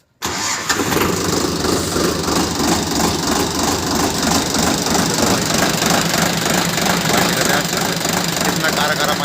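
Ace tractor engine cranks and catches abruptly, then settles into a loud, steady, knocking diesel idle with a rapid rhythmic clatter, close by and continuing throughout.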